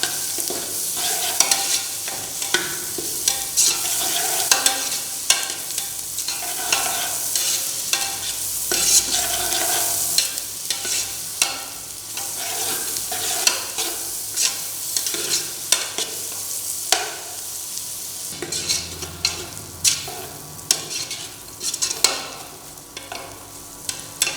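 Bay leaves sautéing in a pot of oil for turkey biryani, a steady loud sizzle broken by repeated scraping and stirring strokes of a spoon against the pot.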